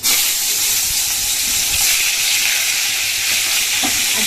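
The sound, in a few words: eggplant frying in a pan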